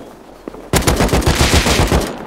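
Gunfire in the survival game Rust lands a triple headshot: one faint shot, then a loud rapid burst of automatic fire that runs for about a second and a half, close and dominant.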